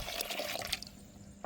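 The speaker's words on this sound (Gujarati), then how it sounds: "મસ્ત મજાનું પાણી નાખી દીધું" Water poured into a pot for Maggi noodles outdoors in a forest at night, a steady splashing fill for most of a second that cuts off and leaves a quiet hiss.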